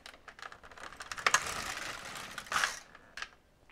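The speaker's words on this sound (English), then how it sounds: "And I will knit one row" LK150 knitting machine carriage sliding across the needle bed to knit a single row, a close clattering swish lasting a few seconds with a couple of louder clicks and rattles, no speech.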